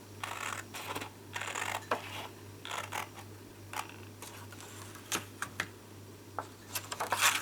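Card stock being cut along a score line with a paper trimmer, a series of close crisp slicing and clicking strokes in uneven bursts over a low hum.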